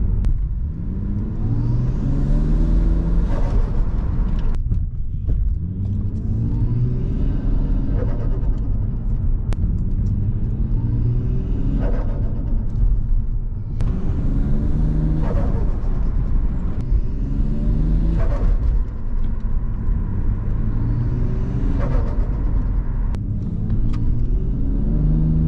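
A Toyota Crown JZS171 fitted with a front-mount intercooler drives along, its engine and loud exhaust droning close and deep, rising and falling in repeated waves as it revs and shifts.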